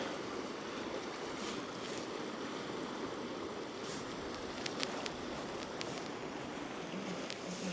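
Steady rushing water flows continuously without pause, a broad close-up wash with faint splashes on top.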